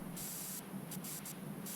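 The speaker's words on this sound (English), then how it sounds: "we can spray it so much that it moves a little bit" A pressure washer sprays in the video game PowerWash Simulator 2, a steady close hiss that swells and cuts in short bursts as the nozzle switches on and off, with no talking.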